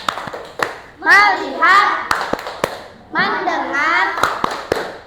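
A class of children chants the 'tepuk fokus' clapping routine in unison, sung lines broken by sharp, rhythmic group claps, close and loud.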